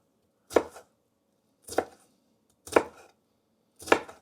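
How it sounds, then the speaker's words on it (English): Knife chopping thin bell pepper strips on a cutting board, four crisp separate chops about a second apart, close and clear with silence between. "And then I want pretty fine dice on this bell pepper too. So strips as thin as I can get them. Get them all together. Give them a good chop."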